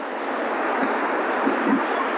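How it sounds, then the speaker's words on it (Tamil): Sea waves wash onto the shore at Mullaithivu on the Sri Lankan coast, a steady broad roar of surf mixed with wind rushing across the microphone, with faint swells rising and falling and no voices. "இந்த கடல் அலையோட சத்தம் வந்து அவ்வளவு அருமையா இருக்குது"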